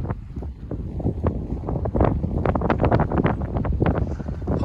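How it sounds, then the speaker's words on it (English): Gusty wind buffeting the microphone beside a lake on a hike, loud irregular bursts of roaring rumble with no talk. "Apologize for the wind, but"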